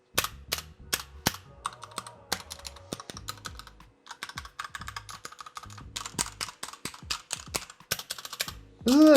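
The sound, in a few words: typing on Glorious GMMK Pro keyboard with Kailh Red switches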